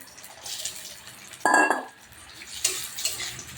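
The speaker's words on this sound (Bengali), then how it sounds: "এই যে ভেজে রাখা পুঁটি মাছগুলো আমি দিয়ে দিচ্ছি।" Fried puti fish tipped into a hot cooking pan for a tangy tamarind fish curry, giving one brief clattering, sizzling burst midway, with softer kitchen clinks and scraping before and after.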